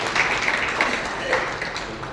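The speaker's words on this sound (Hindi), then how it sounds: "जोरदार ताली बजा के स्वागत करो।" An audience at a public event with a law minister in Bikaner claps to welcome a speaker, a steady patter of many hands heard under someone speaking over a loudspeaker.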